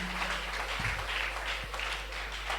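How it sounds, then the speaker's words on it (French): Church congregation clapping and cheering loudly at a French-language worship service, a steady broad wash of applause and acclaim throughout with a couple of low thumps. "Acclame très fort."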